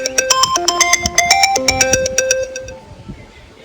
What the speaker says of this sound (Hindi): उठा उठा फोन उठा